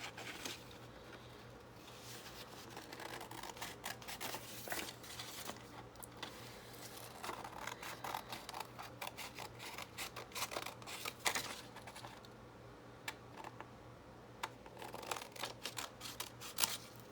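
Scissors trim paper for a junk journal with quiet, close snipping and light paper rustles in irregular bursts, faint against a low steady hum.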